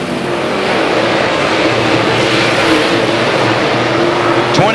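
Open-wheel outlaw race cars run side by side on a racetrack, their engines roaring loud and continuous in a sustained high-pitched drone, with a brief sharper whine from a passing car at the very end.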